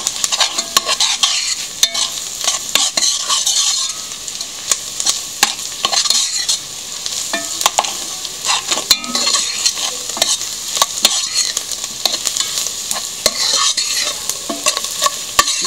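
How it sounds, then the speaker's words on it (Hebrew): Spices and onion fry in a pan while a utensil stirs constantly, giving a loud, dense sizzle broken by frequent sharp scrapes and taps of the spoon against the pan, with no talking. "עכשיו אני מערבבת את זה משהו כמו חצי דקה, עד שהתבלינים ישחררו את הארומה."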